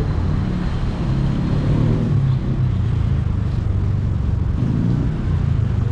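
Cars coming off Magallanes Drive roll past on a road by the Pasig River Esplanade, making a continuous, moderately loud wash of tyre and engine noise as several vehicles pass in succession nearby.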